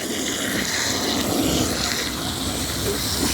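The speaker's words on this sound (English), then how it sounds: "Fill this up with water." Water gushes steadily into a post hole packed with Postcrete for a swing set, a loud continuous hissing rush that holds even from start to finish with no pauses.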